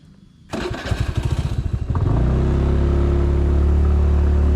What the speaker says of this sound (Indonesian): Saya ngawal pakai sepeda motor